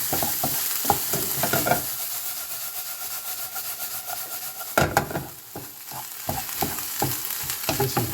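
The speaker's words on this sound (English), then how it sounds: "We're getting a lot of this grease off of the meat when it's cooking." Ground meat for taco-stuffed tomatoes frying and browning in a pan, with a dense crackling sizzle close up and a steady run of scraping stirs, one louder clatter in the middle.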